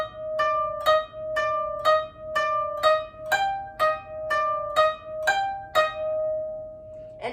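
A koto plays a phrase from the first part of Hana Ikada as a steady run of about twelve plucked notes, each ringing briefly before the next. The instrument is close and heard alone.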